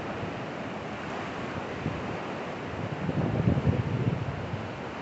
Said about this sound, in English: I've seen the waves coming across.